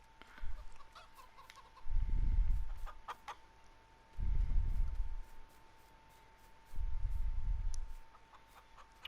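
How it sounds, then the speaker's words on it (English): Chickens in Farming Simulator 19 cluck in three low, rumbling bursts of a few seconds each, evenly spaced, over a quiet hum and scattered faint clicks. "Let's go down to the chickens"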